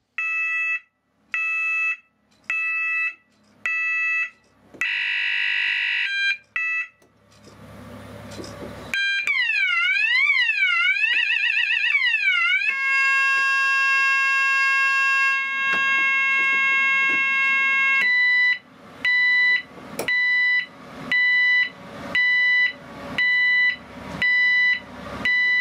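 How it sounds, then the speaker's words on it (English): An e2s warning signal unit set to a louder reversing alarm tone cycles through loud, piercing electronic patterns: evenly spaced pulsed beeps, a warbling sweep, a steady continuous tone, then rhythmic beeping again, close and alone. "A louder reversing alarm."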